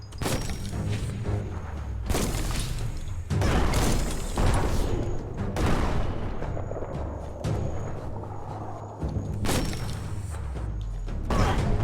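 A bomb lobber weapon firing in the Biomutant video game, with repeated heavy booming blasts and thuds at irregular intervals over a dense, loud game soundscape.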